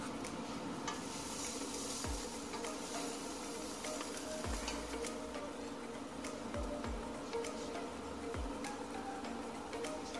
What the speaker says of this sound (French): On va faire cuire les oignons dans l'huile en premier.